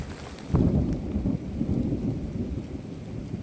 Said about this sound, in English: Just as I linked up with Jason and Jordan, the heart of the storm caught us